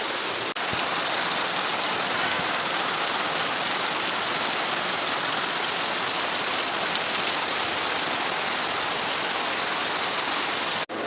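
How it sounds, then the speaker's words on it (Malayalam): Heavy rain pours down steadily, a dense, loud, unbroken hiss of drops hitting surfaces that lasts the whole time with no voices. "നല്ല മഴ ഉണ്ട് കേട്ടോ, നല്ലതായിട്ട് പെയ്യുന്നുണ്ട്."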